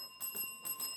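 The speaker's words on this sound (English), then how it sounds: "that is the bell signifying the end of our third round and the end of today's match" A quiz show bell rings at the close of the third and final round of a Jamaican televised junior quiz match, two bright sustained metallic strikes with steady high ringing tones, clear and alone without talk.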